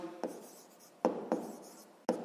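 Pen or pencil strokes on paper come in short scratchy bursts with pauses between, as a long row of negative integers from minus one to minus 2023 is written out. The sound is quiet and close, with no voices.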